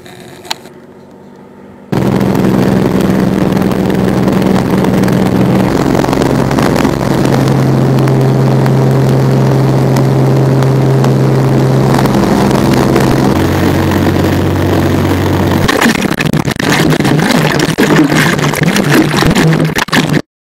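A plane engine drones steadily through an extraction scene on a survival show, loud and continuous with shifting pitch bands, then the sound turns rougher and noisier toward the end.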